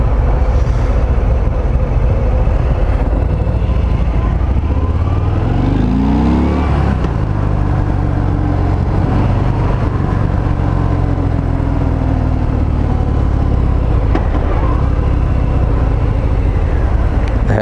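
A 2020 Harley-Davidson Fat Bob 114 motorcycle rides along a road, its engine note rumbling steadily and loud under rushing wind, with brief rises in pitch as it accelerates.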